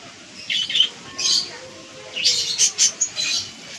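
Racing pigeons give several short, sharp squawks and chirps in separate bursts, fairly close, with a faint hush of background behind them.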